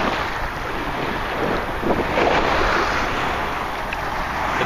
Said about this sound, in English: Just waves and more wind now.